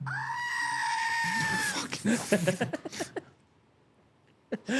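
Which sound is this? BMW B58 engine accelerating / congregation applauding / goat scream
goat scream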